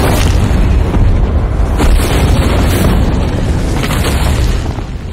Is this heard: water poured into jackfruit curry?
no